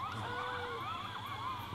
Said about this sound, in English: Sounds like a damn cop siren.